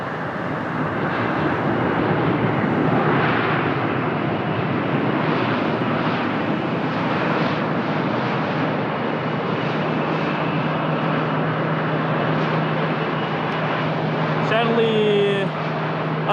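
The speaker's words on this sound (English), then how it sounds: "from Vienna, it's the Airbus A320neo. Right now of TAP Portugal." TAP Portugal Airbus A320neo arriving from Vienna at Lisbon Airport, its engines a loud steady roar that fills the whole stretch, with a brief higher whine near the end and a voice talking over it.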